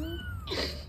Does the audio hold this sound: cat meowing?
yes